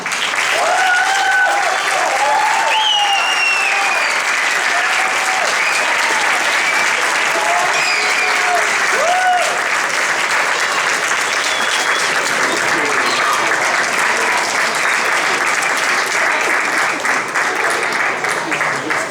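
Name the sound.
applause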